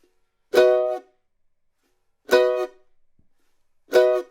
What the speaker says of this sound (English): And that's how you do a bluegrass chop.